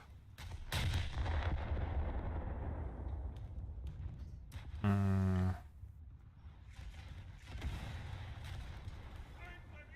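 Heavy battleship naval guns fire in the War Thunder naval battle game, a few slow, hard-hitting booms spaced apart amid a low rumbling background, with a sustained horn-like tone partway through and someone talking between shots.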